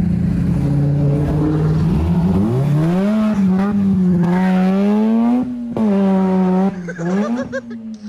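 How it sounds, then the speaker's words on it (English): Custom go-kart built around a Mazda RX8 rotary engine with a six-speed gearbox, loud and close, its buzzing engine note climbing and holding through the gears, dipping briefly between shifts, with no talk over it. "It's like a go-kart with six gears."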